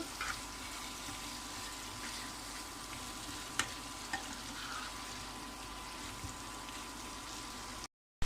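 Soft, steady sizzling of chicken frying without water under a lid on a low gas flame, a faint continuous crackle with a few small pops.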